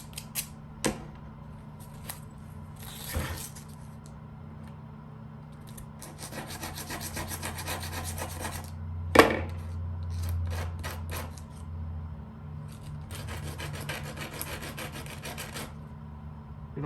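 Rough edges on aircraft bulkhead parts being filed, with short scraping rasp strokes in bursts separated by quiet pauses and a sharp tap midway, close and fairly soft.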